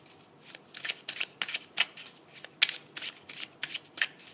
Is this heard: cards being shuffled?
yes